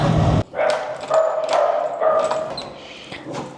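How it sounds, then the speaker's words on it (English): Several sharp dog barks and yips in quick succession, close and loud, with brief gaps between bursts. "Why are you barking? Why are you barking?"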